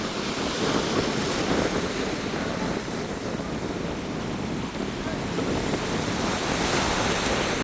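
Strong wind roars over sea waves breaking along the Mathagal coast at night, a loud, steady wash of surf and gusting wind noise buffeting the microphone throughout, with no voices.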